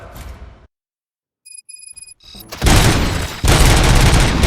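After a few electronic beeps, loud bursts of rapid gunfire erupt and continue in two dense volleys in the video game RoboCop: Rogue City.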